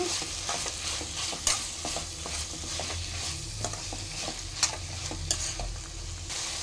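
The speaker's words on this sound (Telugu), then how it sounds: "ఇప్పుడైతే ఒక నిమిషం కొత్తిమీర వేయించుకుంటానండి" Coriander frying in a pan for stuffed brinjal curry crackles in a constant close sizzle, dotted with repeated scraping and tapping clicks from stirring, and no speech.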